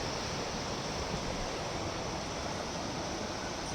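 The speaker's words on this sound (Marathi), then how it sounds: "जोरात पाऊस चालू आहे" A dense, steady hiss of heavy rain in Pune and water rushing along a road, unbroken and even throughout, with no voices.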